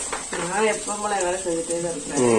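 Oil poured from a large ladle into a hot pan while a home lunch box is cooked: a steady, close sizzle running beneath a person talking.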